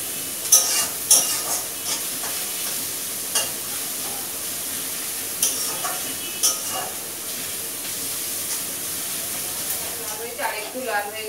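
Onions and fish fry in a pan with a steady sizzling hiss and occasional stirring clatter, close and moderately loud throughout.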